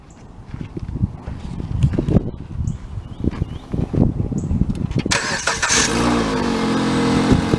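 A car with a dual VVT 2.4-liter engine at a towing and recovery auction cranks over after some nearby clatter, then catches and settles into a loud, steady close idle.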